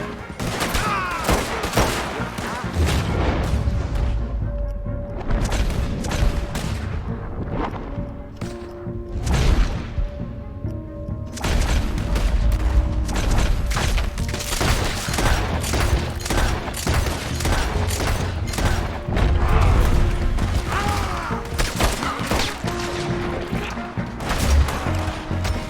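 Heavy gunfire in Red Dead Redemption 2, a dense fusillade of rapid overlapping shots and booms from several guns, loud and sustained with brief lulls, a voice faintly underneath.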